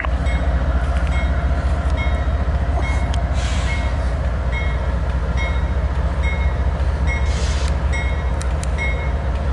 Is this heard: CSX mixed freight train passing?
yes